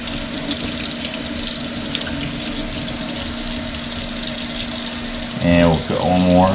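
A kitchen tap runs steadily as seeds are rinsed out of a halved jalapeno, a continuous close splashing stream, with a voice speaking briefly near the end.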